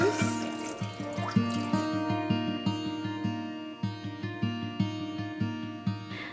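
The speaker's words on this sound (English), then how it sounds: "We're gonna add the cider and orange juice." Apple cider and orange juice poured into a cooking pot, a steady liquid stream with repeated bubbling drips and splashes, fairly close and alone with no talking.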